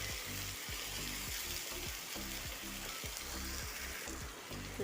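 Chopped tomato fries in a pan for pepper chicken, a soft steady sizzle under a regular low rhythmic thumping that repeats throughout, moderately quiet and close.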